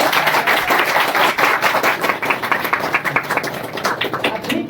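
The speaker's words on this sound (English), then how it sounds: "So a big clap to my teachers." A room of students at a farewell gathering claps for their teachers, close rapid hand claps that go on throughout.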